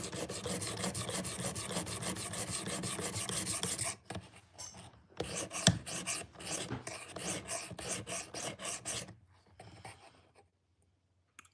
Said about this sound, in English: My sharpening is kind of loud, isn't it?